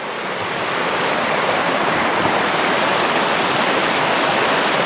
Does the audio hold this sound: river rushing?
yes